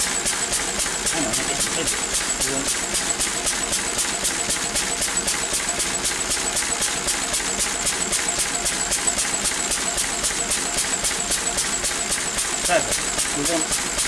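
Lister D diesel engine running on a dyno test, a fast, steady, evenly pulsing chug that stays loud and constant throughout, with a person briefly speaking over it.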